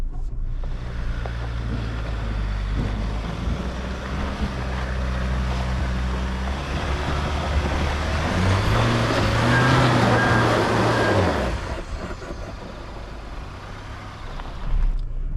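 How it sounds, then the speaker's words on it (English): A Volkswagen Amarok engine roars at full throttle off-road with the wheels spinning, a loud and steady low drone that rises in pitch before easing off near the end. "It's about half throttle now, full throttle. It's just spinning a little bit."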